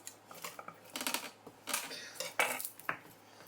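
Garlic cloves being cracked and peeled by hand at a kitchen counter during steak prep, giving a series of short dry crackles and papery snaps, close and moderately quiet, with light clatter between bursts.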